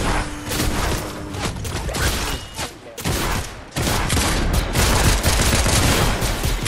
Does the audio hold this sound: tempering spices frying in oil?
no